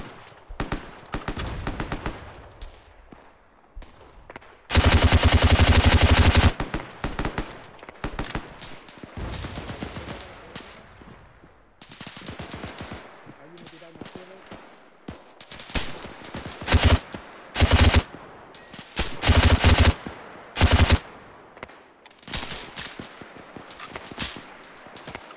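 Gunfire in the military simulation game Arma 3 on Crete: a long, loud automatic burst followed by scattered, irregular shots and short volleys at varying distances.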